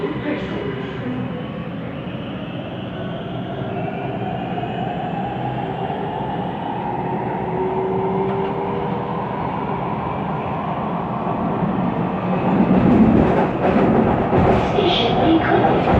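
A Siemens Inspiro train on the SBK Line rolls along with a continuous loud rumble and an odd rolling drone, swelling slightly toward the end, heard from inside the carriage without talk.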